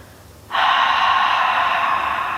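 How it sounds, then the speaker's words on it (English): One forceful breath pushed out through the mouth, a sudden loud airy rush that starts abruptly and holds steady for about two seconds, close and alone. "with a big force, we're going to exhale through the mouth"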